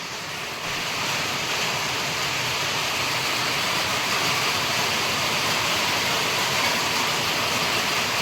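Heavy rain pouring down on a Konkan village, a dense, steady roar of falling water close by, loud and unbroken for the whole stretch, no speech.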